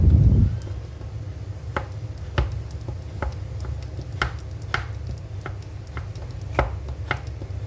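Palm sugar (gula merah) being shaved with a knife, a steady series of about a dozen crisp, close knife strokes at an irregular pace over a low background hum.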